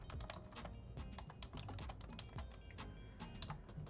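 Rapid keystrokes on a computer keyboard tap out in quick irregular bursts, close and faint in a quiet room, with no voices.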